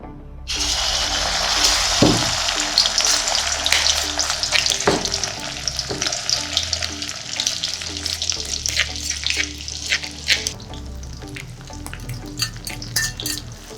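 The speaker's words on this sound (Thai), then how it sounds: "เราจะผัดพริกแกงกับน้ำมันนะคะ จนกว่า พริกแกงจะหอมค่ะ" Homemade southern Thai curry paste frying in hot oil for a beef khua kling, a dense close sizzle with scraping stirs and a few sharp clatters, loud at first and easing toward the end.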